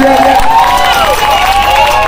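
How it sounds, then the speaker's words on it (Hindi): Crowd at an outdoor public gathering about a flyover bridge cheers and claps loudly, with shouting voices and whistle-like calls over steady clapping throughout. "जरा जोरदार ताली हो जाए भाई के लिए"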